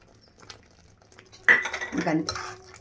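A spoon stirs tomato pachadi with tamarind in a metal pot: it starts quietly, then scrapes and clinks against the pot in a burst of busy, close-up stirring.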